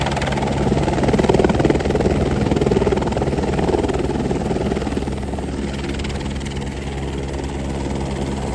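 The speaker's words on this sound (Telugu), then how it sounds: "ఎప్పుడు హెలికాప్టర్ని చూస్తానని కూడా అనుకోలేదు. ఇప్పుడు ఎక్కబోతున్నాను." Helicopter engine and rotor running steadily before a flight to Amarnath, a loud constant low drone with heavy low rumble that holds throughout without a break, with no speech over it.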